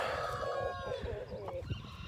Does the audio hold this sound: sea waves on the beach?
no